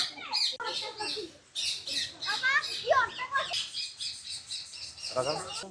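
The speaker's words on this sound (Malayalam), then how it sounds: "പേര് തത്തമ്മ" A parrot squawks and chirps repeatedly in loud, harsh bursts, with other bird calls around it, in the bird area of Thrissur Zoo.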